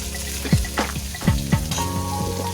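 Spinach and mixed vegetables fry in a pan with a steady sizzle, broken by several sharp clatters and scrapes of stirring, close and fairly loud, with no talk.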